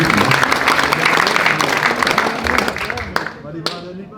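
An audience at a Bildts-language presentation evening in Friesland claps for two men called forward, a dense crowd of hands that thins into a few scattered claps near the end, with voices mixed in.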